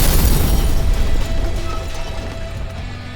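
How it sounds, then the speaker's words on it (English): Car explosion sound effect: a heavy, rumbling boom with debris and crackle that decays gradually over a few seconds, loud and alone with no talk. "There's a car explosion."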